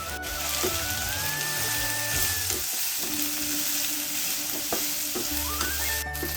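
Chopped ginger, garlic, onion and chili frying in oil, a steady loud sizzle with occasional stirring scrapes and a faint background tone.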